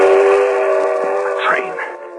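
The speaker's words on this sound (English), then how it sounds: "A train. If I can make that train." Radio drama sound effect of a passing train, a loud sustained whistle blast with rumbling rail noise fading slightly as it goes by.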